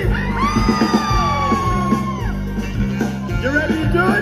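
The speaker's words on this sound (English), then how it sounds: "Somebody scream!" A concert crowd at a band performance yells, whoops and screams loudly together, sustained cheering voices rising and falling over thumping live music for the whole stretch.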